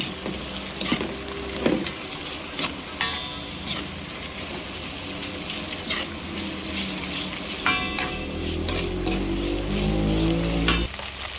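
Ham and hotdog stir-fried in a pot for sopas, a continuous close sizzle broken by scraping and knocking of a utensil against the pot, louder frying surging near the end.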